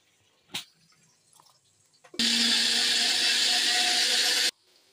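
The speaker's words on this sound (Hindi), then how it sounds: "इसमें प्याज टमाटर काट रहे हैं, इसको ग्राइंड करेंगे।" An electric blender grinding onion and tomato into puree, heard as one loud, steady whirring burst of about two seconds after a brief knock, then abruptly stopping, close up with no talking.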